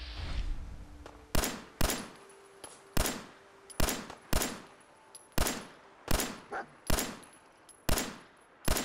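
Gunfire in Fallout 4 during a survival-mode fight with raiders: about ten loud, sharp single shots spaced roughly half a second to a second apart, each with a brief decaying tail, and no speech over them.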